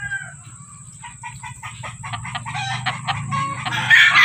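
A backyard flock of Sweater-breed chickens clucks in close, quick bursts while a rooster's crow rises at the end, all over a low, steady background hum.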